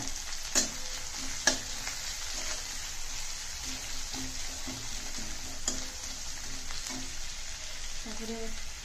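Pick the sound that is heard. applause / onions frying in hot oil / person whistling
onions frying in hot oil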